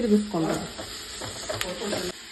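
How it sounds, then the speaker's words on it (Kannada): Grated beetroot hitting a hot pan with onions, sizzling and frying while a spoon scrapes and stirs through it in short, busy strokes, fairly close and alone. "ಆಮೇಲೆ ತುರಿದಿರ್ತೀವಲ್ಲ ಬೀಟ್ರೂಟು ಹಾಕ್ಕೊಂಬಿಡಿ. ಹಾಕ್ಕೊಂಡ್ಬಿಟ್ಟು ಚೆನ್ನಾಗಿ"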